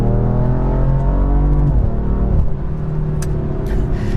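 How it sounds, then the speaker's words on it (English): A BMW M4 accelerating hard, its loud engine note rising steadily through the revs and then dropping briefly as it shifts before pulling again, heard close and continuous with no voices. "the car accelerated so violently"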